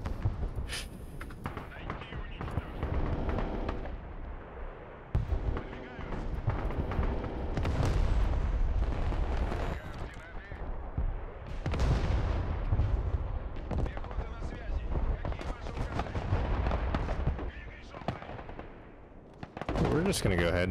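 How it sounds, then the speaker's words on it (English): Artillery booms in the video game Broken Arrow, heavy impacts and rumbling blasts rolling through a long barrage, with gunfire crackling between them and a player talking over much of it. "Okay, got artillery coming down right there."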